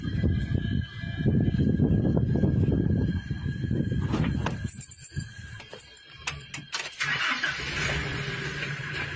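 A police patrol car engine cranks and turns over, roaring loudly at first, then settles into an uneven running rumble with clicks and rattles close by.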